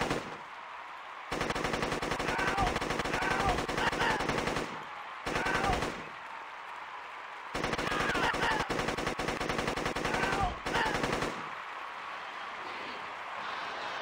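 Rapid pistol gunfire from The Dictator: Wadiyan Games shooting event, loud bursts of shots in several long stretches separated by brief pauses, with faint game audio beneath.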